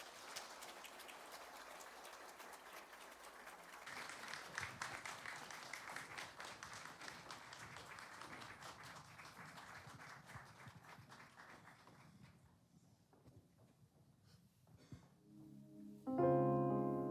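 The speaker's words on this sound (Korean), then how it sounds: "박수로 맞이하시겠습니다." A church congregation claps through a Sunday service, a soft, steady patter that goes on for about twelve seconds, then fades out before music starts.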